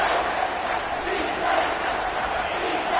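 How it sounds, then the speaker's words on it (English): A stadium crowd roars during a third-down defensive stand in an NCAA football video game, a dense, sustained wall of cheering that swells slightly. "Decibels rising as the crowd gets behind this defense on third down."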